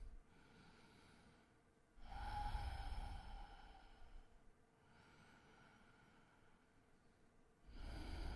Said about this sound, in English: take 3 inhales and 3 exhales